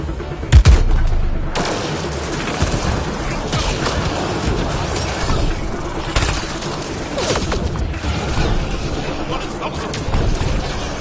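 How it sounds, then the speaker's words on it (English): Gunfire and a grenade blast in the video game Mass Effect: Andromeda, with a loud burst near the start followed by dense, continuous rattling fire and scattered heavy hits across the scene. "Cover your ears! Grenade!"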